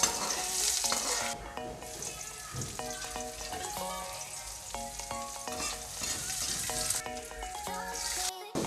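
Garlic sizzles steadily in a little cooking oil for a home meal, a loud continuous frying hiss broken by repeated stirring clinks and scrapes of a utensil against the pan.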